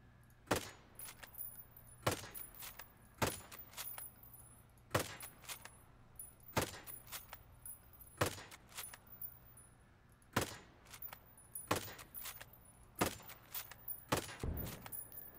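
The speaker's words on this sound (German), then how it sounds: "Wow, was für eine krasse Explosion" Sharp, loud blasts from the video game Ghost Recon Breakpoint erupt again and again at irregular intervals over a low steady hum, with a bigger burst near the end.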